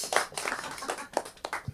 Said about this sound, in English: since Barack Obama, we'll give him a round of applause.